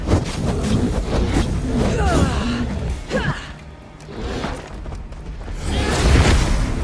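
Fire attacks in Assassin's Creed Odyssey during a legendary bear boss fight come as a string of whooshes, bursts and heavy impacts, loud and close, with a lull midway before another booming hit, and occasional speech.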